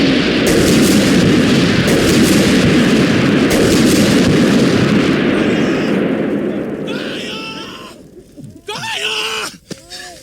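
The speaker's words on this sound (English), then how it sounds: "the troops are coming under artillery barrage" Artillery barrage in the 1998 Finnish war film Taistelukenttä: a loud, dense roar of blasts and rumbling fire that fades toward the end, followed by scattered screams and shouts.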